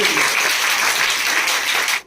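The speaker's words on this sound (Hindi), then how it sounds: "एक बार जोरदार ताली बजा दो" Loud, sustained clapping from an audience at a school science quiz competition in Uttar Pradesh, a thick continuous patter of many hands that cuts off abruptly at the end.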